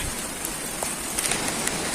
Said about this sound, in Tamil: அதே போல் விடாமல் மழை பேஞ்சிக்கிட்டு இருக்கு